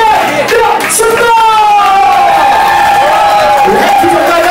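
Loud crowd cheering and applause at a live show in Thailand, continuous whoops and yells filling the space with a voice over the top.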